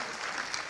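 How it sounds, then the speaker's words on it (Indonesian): Church congregation applauding in a brief burst, a dense steady patter of many hands clapping at moderate distance with no pause. "Kasih tepuk tangan lu yang meriah buat Tuhan, amin."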